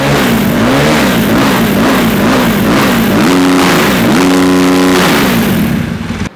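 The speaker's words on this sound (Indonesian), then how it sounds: "Motor 250 juta bunyinya tuh kayak gini" A 2022 Husqvarna FS 450 Special Touring Edition motorcycle engine revs loudly and close, rising and falling in repeated throttle blips with a strong tonal drone before cutting off at the end.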